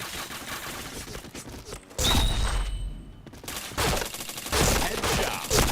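Bursts of video game gunfire crackle in rapid volleys, loud and dense, with brief lulls between fusillades and faint background game sounds.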